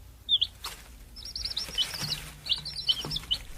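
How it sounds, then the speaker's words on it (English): Small birds chirp and tweet in short, bright bursts near a tree nest where a parent feeds three chicks, the calls repeating irregularly over faint background hiss. "The bird is singing so sweetly."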